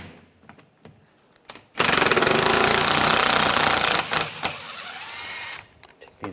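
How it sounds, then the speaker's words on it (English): A power tool drives a 10mm socket on headlight assembly bolts of a 2013-2016 Dodge Dart, a loud continuous whirring buzz lasting several seconds with a thin high whine, framed by quieter clicks and handling noises before and after. "I'm using a 10mm socket."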